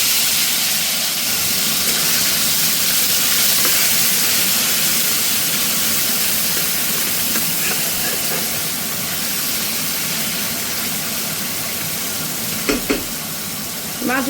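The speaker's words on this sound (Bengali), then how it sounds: "তেলটা গরম হয়ে গেছে এবার আমি অল্প অল্প করে কাঁচকি মাছ দিয়ে দেবো" Small kachki fish sizzle and crackle in hot oil in a home kitchen, a loud continuous frying hiss with a couple of brief clinks near the end.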